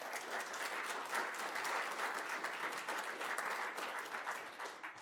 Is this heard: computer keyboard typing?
no